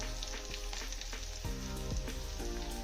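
Crushed garlic, slit green chillies and curry leaves frying in hot oil for a chicken fry, a close, continuous crackling sizzle with occasional stirring, no voices.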